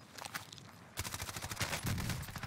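Close-range gunfight in Call of Duty Warzone on Rebirth Island, rapid bursts of automatic gunfire crackling in quick repeated shots, moderately close, with a brief lull before a denser barrage.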